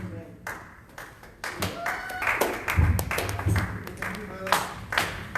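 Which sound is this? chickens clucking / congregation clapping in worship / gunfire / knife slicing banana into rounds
congregation clapping in worship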